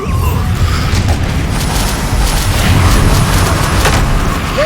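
A Bombarda blast spell goes off in the Hogwarts Legacy game, a loud, sustained rumbling boom with crackling debris that fills the whole stretch at close range.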